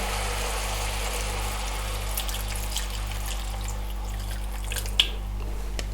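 Water splashes and sizzles into a hot pan of stir-fried glass noodles, a steady hissing wash over a low humming drone, with a small clink near the end.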